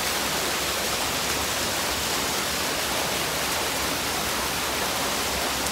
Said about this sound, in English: I like waterfalls.